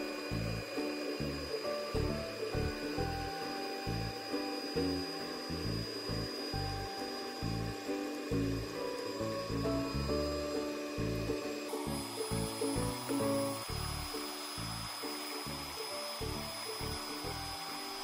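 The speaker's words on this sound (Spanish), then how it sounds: "vaciaremos sobre los huevos y comenzaremos a batir nuevamente" An electric mixer beating banana bread batter with eggs, a continuous whirring motor drone with steady tonal whine and rhythmic pulsing, moderately loud and unbroken, shifting slightly in pitch partway through.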